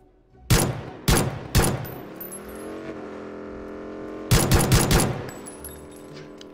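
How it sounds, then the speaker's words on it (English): Gunshots ring out in a police patrol video game: three sharp cracks, a humming engine or siren-like tone, then a rapid burst of several more shots, loud and close. "Shots fired, shots fired!"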